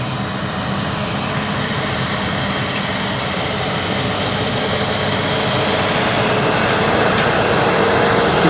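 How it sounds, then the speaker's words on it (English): A tractor engine runs steadily during a harvest, a continuous broadband rumble with a heavy low-frequency drone that grows slightly louder over the span, with no talking. "so come the tractor"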